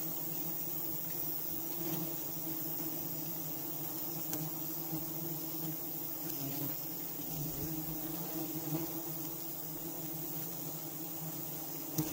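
Honeybees buzz steadily around a large bee nest, a dense continuous droning hum that holds at an even level throughout with no voices.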